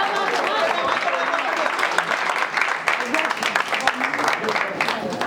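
Audience at an open mic show applauding a performer, dense sustained clapping from a crowd filling the room throughout, close and loud with a few voices mixed in.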